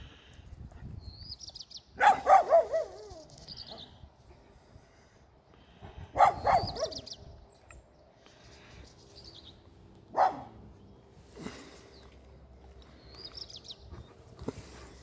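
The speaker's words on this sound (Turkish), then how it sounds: "Bir tanesi burada var komşunun köpeğin." A neighbor's dog barks in a few short bursts spread over several seconds, moderately close, with birds chirping faintly in the background between barks.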